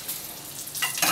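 Garlic and habanero chilies grilling for salsa, a soft steady sizzle that swells louder and brighter toward the end of the short stretch, with no talk.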